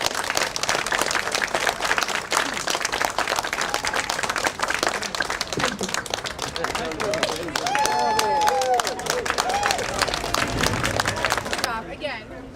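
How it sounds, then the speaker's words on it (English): Audience applause at a town-square walking tour during a writers' festival, a dense, sustained clapping that carries on steadily under crowd murmur and some talking, with a few voices rising near the end. "can I have a big round of applause for all the contributors"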